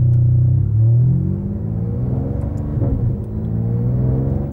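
A Mansory-tuned high-power car accelerates hard, its engine rumbling loudly as the revs climb in a sweeping rise, then dipping and building again close by.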